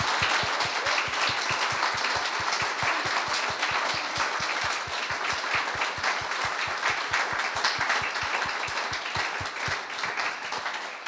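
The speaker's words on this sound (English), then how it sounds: "So please give Shaba a huge round of applause." An audience applauds an artist after a talk, a steady wash of many hands clapping with a regular underlying beat of rhythmic claps running throughout before thinning at the very end.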